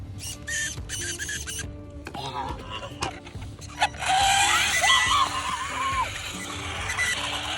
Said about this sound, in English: As you can tell, the motor is not happy. Doesn't sound great, but it runs really good.